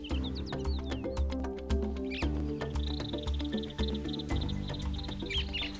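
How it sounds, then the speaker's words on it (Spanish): Flock of parakeets passing overhead in an urban setting, scattered shrill chirps and squawks heard above a busy background of low, rumbling, tonal noise. "Oímos pasar una parvada de pericos"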